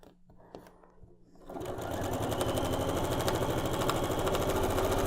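A sewing machine stitches across a quilt seam: quiet handling at first, then the motor starts and runs steadily with a fast, even needle clatter, fairly close and loud.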